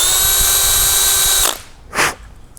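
A power drill spins a deburring bit inside a steel brake line pipe, whining steadily for about a second and a half before stopping, then a short burst follows; close and loud, no talking.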